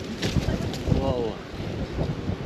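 Strong gusting wind buffets the microphone during a summer gravel bike ride near Bad Ischl, a low roaring rumble with irregular surges and a faint voice underneath.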